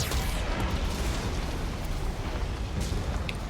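A Geth cannon blast in the Mass Effect 2 video game, a loud, sustained rumbling explosion with a dense roar that holds steady throughout.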